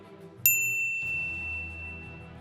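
A single bright notification bell dings once, clear and sharp, its ringing tone fading slowly while a soft low background hum continues beneath it.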